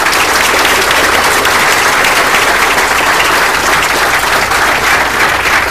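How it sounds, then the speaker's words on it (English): Loud, continuous applause fills a graduation ceremony hall as the audience claps for Senator King, an even, dense roar of many hands with no break throughout. "Let's give him one more round of applause."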